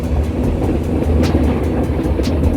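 Inside the compartment of a meter gauge train pulling out of Amreli, a loud, steady rumble and rattle runs throughout, with faint rhythmic clicks from the wheels on the track.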